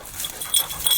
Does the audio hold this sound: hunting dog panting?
yes